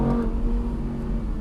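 An Audi R8 V10 Plus Spyder with 610 horsepower accelerating at full throttle in second gear downhill on a mountain pass, a loud, steady engine drone with a strong low hum, heard from inside the car.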